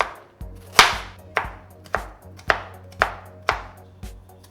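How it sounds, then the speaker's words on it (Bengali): A knife cuts a carrot into small cubes on a board, striking seven crisp, evenly spaced chops, each a sharp knock with a brief ring, close up and with no one talking. "গাজরটা এইভাবে ছোট ও চৌকো আকারে কেটে নিতে হবে।"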